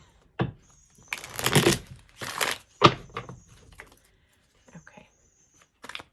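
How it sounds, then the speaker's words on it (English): Bursts of tarot cards being shuffled, a few crisp riffling rushes with soft thumps between, close by, and brief quiet talk near the end. "I hate crunchy shuffle."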